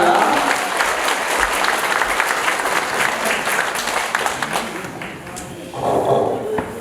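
Loud, sustained applause from a large crowd at a lecture event in Gyeongju, South Korea, steady clapping throughout with a brief swell near the end.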